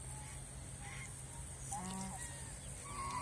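A domestic goose honks a few times at moderate distance over a faint steady background hum, with brief calls clustered near the middle.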